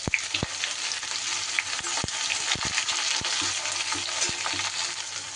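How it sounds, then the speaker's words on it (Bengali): Two large chopped onions hit hot oil spiced with peppercorns and whole spices, sizzling loudly and continuously at close range, with scattered sharp clinks of a spoon against the pan. "ফোড়ন থেকে আমার সুন্দর গন্ধ বেরোলে দিয়ে দিলাম আমি কেটে রাখা বেশ বড় সাইজের 2টো পেঁয়াজ"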